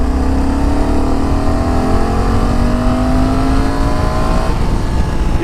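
Honda Africa Twin automatic-transmission motorcycle ridden in urban mode, engine droning loud and steady with a rising then falling pitch as it pulls, constant wind roar over the whole stretch.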